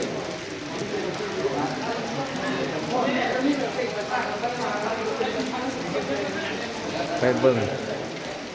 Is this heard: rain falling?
yes